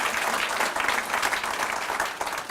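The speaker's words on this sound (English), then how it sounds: "Let's give them some applause." Warm, continuous applause from the audience at a library literacy awards ceremony, many hands clapping together at a steady level for the whole moment.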